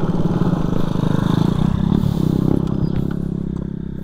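A motorcycle engine idles close by in a loud, steady low chugging pulse, easing slightly toward the end, with no voices.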